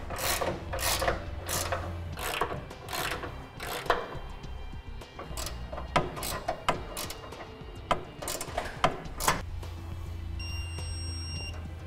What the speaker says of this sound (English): we'll go ahead and tighten and torque to the manufacturer's specification